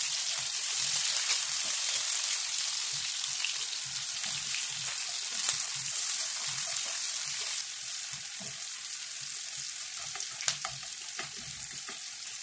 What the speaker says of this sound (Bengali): সেই পেঁয়াজ কুচিগুলো দিয়ে কয়েক সেকেন্ডে নেড়ে চেড়ে নিচ্ছি।